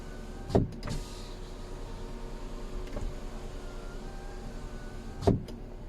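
Power window motor in a KIA Sonet, a steady faint electric whir running throughout, bracketed by a couple of soft clunks as the glass starts and stops.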